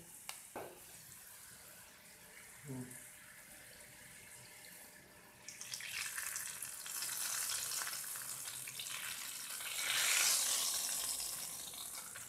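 Steady sizzling of garlic, cumin and carom seeds frying in hot oil, growing louder and hissier midway, with a couple of soft clinks early on.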